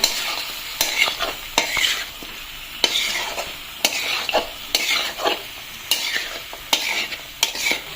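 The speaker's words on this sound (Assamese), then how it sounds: "এইখিনি এতিয়া বঢ়িয়াকৈ লাৰি দিওঁ, মিক্স কৰি দিওঁ মজাকৈ" Assamese-style pork curry stirred in a frying pan, steady sizzling under repeated scraping strokes of a spoon against the pan, close and clear with no talking.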